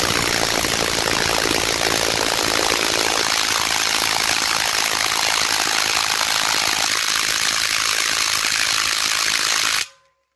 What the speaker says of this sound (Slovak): Takže znova na 180 Nm vyskúšam povoliť aj túto skrutku.